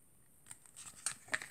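A few quiet, crisp snips of scissors cutting through a sheet of paper for a flowered card, starting after a brief pause and coming in short irregular bursts, close and faint with no voices.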